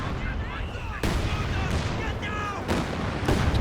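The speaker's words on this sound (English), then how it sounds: "Katyusha once again into the mortar area" Katyusha rocket artillery barrage in Company of Heroes 2, a rapid series of loud booming blasts and whooshes in quick succession, with a commentator talking over it.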